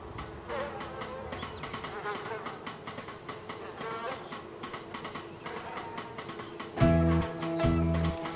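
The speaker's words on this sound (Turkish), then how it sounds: "Arılar!" Bees buzz in a dense, continuous drone in a TV drama scene, swelling near and loud at times, with a low rumbling hum joining toward the end.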